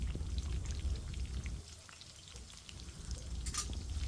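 Garlic and onion pieces fry in oil for a potato fry, a soft, fairly quiet crackling sizzle with a brief brighter hiss near the end.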